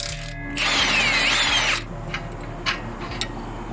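An impact-style power tool spins out a 14 mm bolt from a sway bar end link on a 2019 Honda Civic Si, a loud whirring burst of about a second, followed by a few faint clicks and clanks.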